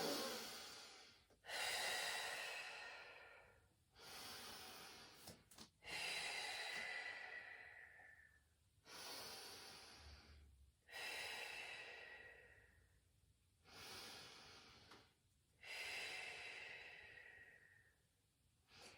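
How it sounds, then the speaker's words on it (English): Slow, deliberate Pilates breathing, with long inhales drawn through the nose alternating with audible exhales out through the mouth. The cycles are close and distinct and repeat about seven times, with no talking. "So breathing in through the nose, out through the mouth."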